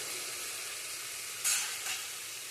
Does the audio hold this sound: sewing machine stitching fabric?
no